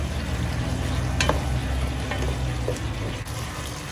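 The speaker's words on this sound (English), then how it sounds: "Bring the sauce to boil." A chilli prawn sauce of red chilli sauce, pepper and water bubbles and sizzles in a pan, a close, steady crackling hiss with a few light clinks.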